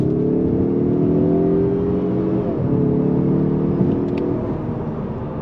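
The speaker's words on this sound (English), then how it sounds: "we're gonna go on throttle again in automatic mode" A 2023 Mazda 3 Turbo hatchback in automatic mode pulls at full throttle, its engine holding a loud, steady droning hum from inside the car with no talk over it.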